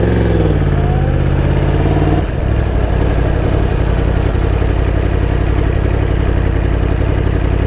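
A stage 2 Yamaha YZF-R1 motorcycle engine idles loud and close, with a brief throttle change early before a steady, unbroken rumble.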